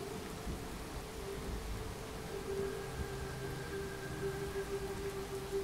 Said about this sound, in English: That silence and rain sound is making me sleepy